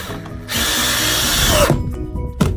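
A screw driven straight into soft 2x2 wood with a power drill, no pilot hole, inside a school bus conversion: a steady loud whir for about a second, then short bursts as it seats.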